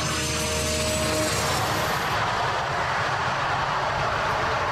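A loud, steady warplane engine roar, broad and continuous, with a faint whining tone early that fades after the first second.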